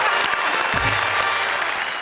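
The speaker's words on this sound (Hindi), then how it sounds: "जोरदार तालियां।" A roomful of people applauds loudly at a Hindi poetry comedy show, a dense, even burst of clapping that lasts the whole moment.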